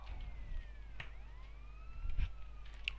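Police car siren in GTA San Andreas, its rising and falling wail sweeping steadily across the clip over a low engine rumble, loud and close.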